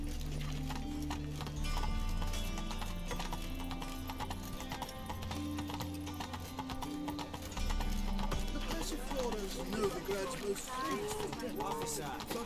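Roach the horse galloping in The Witcher 3, a fast rhythmic clip-clop of hooves that runs throughout with occasional whinnies, alongside game music and a speaking voice.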